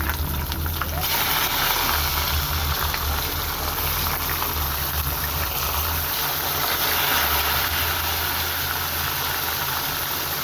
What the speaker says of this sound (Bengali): এখন মাছগুলোকে আমি একটু সময় নিয়ে ভালো করে ভেজে নেব, লাল লাল করে